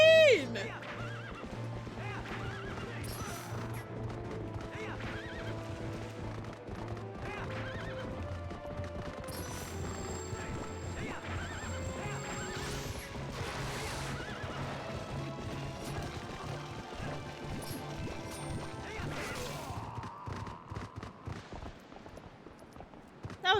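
A horse gallops with steady clip-clop hoofbeats and gives loud, repeated neighs in the Twilight Princess video game, with game music playing underneath.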